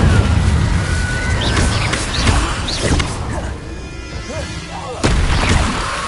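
Fire spell bursts cast in the wizarding video game Hogwarts Legacy, several loud booming impacts with crackle, the sharpest around two seconds in and at five seconds, over a dense game soundscape.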